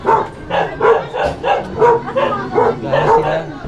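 A dog barks in a rapid series of about eight short, loud, close yips and barks in an even rhythm, with no talk over them.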